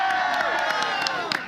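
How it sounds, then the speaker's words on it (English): Audience at a live show applauding and cheering, a dense sustained wash of clapping and whoops with scattered shouts, loud and close throughout. "Rousing round of applause."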